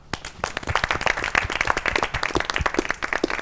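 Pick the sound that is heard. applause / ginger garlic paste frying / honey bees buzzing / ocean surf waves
applause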